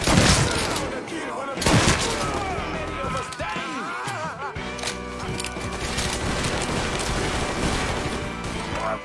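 Gunfire and crashing impacts in the Mafia III video game, bursts of shots among loud action sound while people shout over the top.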